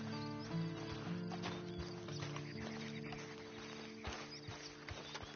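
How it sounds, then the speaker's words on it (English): Steady clip-clop of horse hooves in Red Dead Redemption 2 against a busy background with a low drone and music-like tones, with a few sharper clicks. "Then you better get on this horse."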